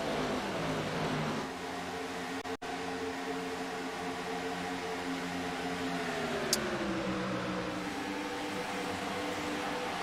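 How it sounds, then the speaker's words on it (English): Several stock race cars at the World 600 drone past together in a sustained engine roar, the pitch gently sliding and shifting as they run around the track, with one brief sharp click partway through. "Man, I could listen to these cars all night."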